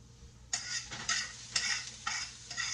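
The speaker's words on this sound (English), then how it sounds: "I'm just going to stir the mushrooms up." Mushrooms being stirred in a frying pan: a run of rhythmic scraping, sizzling bursts about every half second, close and fairly quiet, with a softer hiss between strokes.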